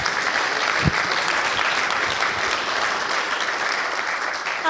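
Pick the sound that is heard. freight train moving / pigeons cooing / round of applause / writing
round of applause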